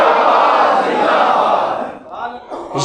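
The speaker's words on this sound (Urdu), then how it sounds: "سینے کا زور لگا کے نعرے کا جواب دیں، تاجدار ختم نبوت۔" A large crowd at a religious gathering shouts a slogan response in unison, loud and sustained for a couple of seconds before fading, with a voice starting up near the end.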